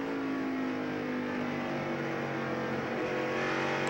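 A 1994 NASCAR Winston Cup stock car's engine roars steadily from an onboard camera at Loudon. It drones loud and constant at racing speed with a slight dip as the driver lifts off the throttle.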